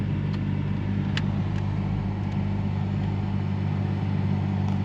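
A 1989 Camaro RS with low mileage cruises on a test drive, its engine giving a steady, loud low rumble with faint road noise and no talking throughout.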